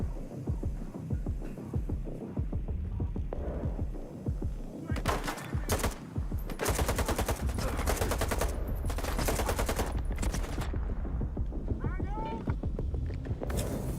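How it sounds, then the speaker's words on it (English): Grenade explosions and gunfire in the shooter game S.T.A.L.K.E.R. 2, with rapid bursts of shots and heavy blasts crowding together, loud and close, while a voice talks over the battle. "Please quit with the grenades."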